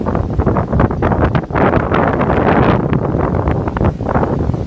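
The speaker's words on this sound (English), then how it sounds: "But it's windy, it feels good." Loud, gusty wind after Hurricane Irma buffets the microphone continuously with a heavy, rumbling roar.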